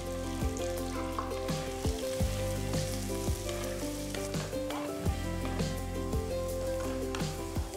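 Finely chopped onion frying with curry leaves in a pan for a dry fish curry, a steady loud sizzle with crackling pops throughout, no voices.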